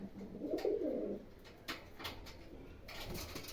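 Pigeons coo softly in a loft or cage area at fairly close range. One low, throaty coo is followed by faint flutters and small knocks.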